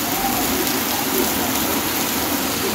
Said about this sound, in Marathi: पावसाने एकदम झोडपून काढलाय पूर्ण रस्ता